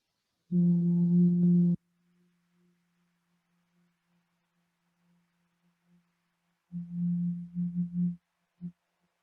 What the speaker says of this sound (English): We're going to take normal or quite deep breaths in and then hum on the way out, making almost like a buzzing sound.